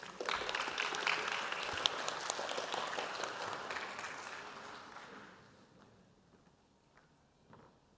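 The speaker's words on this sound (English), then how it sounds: "Please welcome her with a big round of applause." Audience applause for a speaker at an international conference on world harmony, dense clapping filling the room for about five seconds before thinning out to a few scattered claps and fading into quiet.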